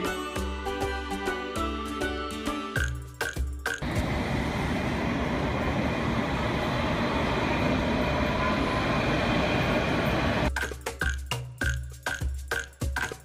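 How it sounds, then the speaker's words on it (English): A train passing, a loud continuous rumbling roar that rises in the middle of the clip and falls away, set between stretches of music. "Train. This is train."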